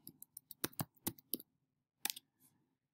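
A computer mouse clicking close by in a quiet room, with a quick burst of about eight sharp clicks, a short pause, then two or three more.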